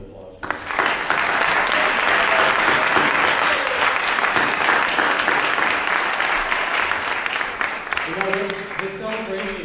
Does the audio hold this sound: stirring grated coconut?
no